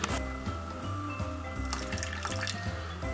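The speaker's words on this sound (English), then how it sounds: "Just add enough water just to cover over the top of all of those red bracts." Water pours from a tap or jug into a pan holding red poinsettia bracts, a steady close splashing trickle running throughout with faint music behind it.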